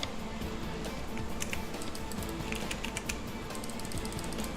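Steady, fast typing on a computer keyboard during a gaming stream, a dense run of close clicking keystrokes over a constant background hum.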